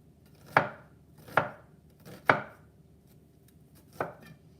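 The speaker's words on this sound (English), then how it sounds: "if you're finding out that the slices of your onions are cut too largely, you could go through and just cut like this to have it smaller pieces" A knife cuts onion slices into smaller pieces on a cutting board, four crisp, distinct chops with pauses between them, close and clear with no talking.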